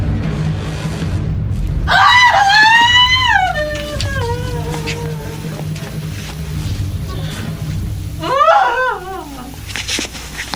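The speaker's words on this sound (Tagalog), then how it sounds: "Sino yung sumigaw?" A person screams loudly and at length in a horror drama, the shrill cry sliding downward over a dark, rumbling background, and a second sharp scream breaks out near the end.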